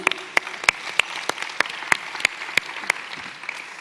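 Sparse, fairly faint clapping from a small audience at a tech conference talk, individual claps spaced out and steady with no voices over it.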